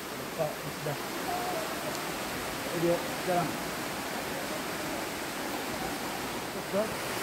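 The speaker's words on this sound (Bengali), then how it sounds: "এখানে স্রোত অনেক, এই যে জোরে আসতেছে, এখানে স্রোত আছে।" Strong rushing stream current at Dhuppani waterfall, a steady broad roar of water that runs on with little change, with faint voices just under it.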